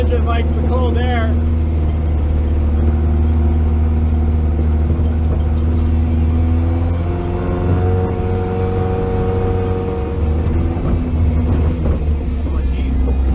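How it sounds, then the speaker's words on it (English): A car engine runs steadily while driving on a wet, puddled course, with a loud, constant low rumble and shifting engine tones that rise and fall. A voice speaks briefly near the start. "Engine likes the cold air."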